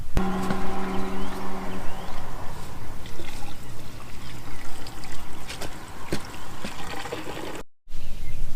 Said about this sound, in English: I'm gonna take this fuel, dump it back in the tank